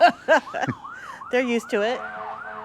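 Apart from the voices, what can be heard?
ambulance siren passing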